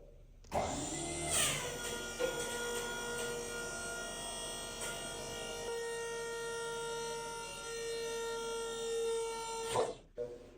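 A hydraulic pump on a 1989 Chevy truck raises a converted flatbed dump bed, its steady high-pitched mechanical whine rising then holding a sustained tone for several seconds, loud and close, before cutting off abruptly.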